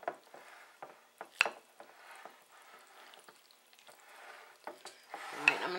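Ham, mild cheddar cheese and potatoes are stirred together for a casserole, making quiet, irregular scraping and clicking bursts with short pauses between strokes and no talking.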